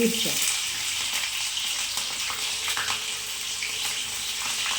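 Mustard seeds and cumin sizzle in hot oil in a home kitchen, a dense, steady crackle with faint popping that is fairly loud and continuous, and a voice briefly heard at the start.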